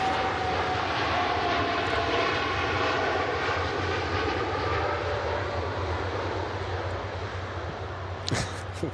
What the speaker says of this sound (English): Another heavy aircraft taking off at the moment.